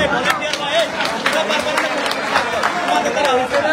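A crowd at a BNP anniversary event breaks into applause, a dense, continuous patter of hands clapping that sustains evenly throughout, mixed with some crowd noise.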